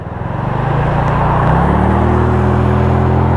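A BMW car accelerates past on a road heard from a 125cc motorcycle, a loud rising engine roar with a steady, climbing drone that swells quickly and stays close.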